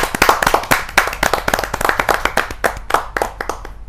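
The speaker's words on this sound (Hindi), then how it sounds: "जोरदार तालियों के साथ हसमुख चतुर्वेदी जी का हम स्वागत करते हैं।" Audience at a kavi sammelan poetry gathering claps to welcome a senior poet, a close, brisk run of sharp individual hand claps with an uneven rhythm and no talk.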